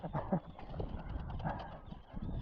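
Geese honking repeatedly over a busy outdoor background at a sandy beach in Värmdö, Sweden, several overlapping calls at moderate distance, fairly loud and continuous.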